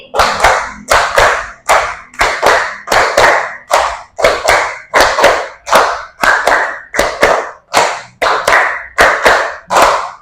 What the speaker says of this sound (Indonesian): kita main tepuk dulu yuk